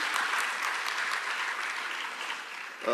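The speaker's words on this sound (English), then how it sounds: "please have a huge round of applause for Ravi" A festival audience at the Dalal Street Lit Fest applauds author Ravi Subramanian, a fairly steady round of clapping that fades slightly before a voice comes in at the very end.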